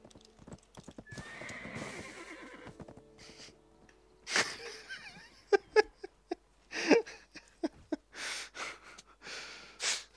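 Horse hooves clip-clop and a horse whinnies loudly several times, with snorts and breathy sounds in between, all in the synthetic soundscape of the video game Black Desert during a horse race.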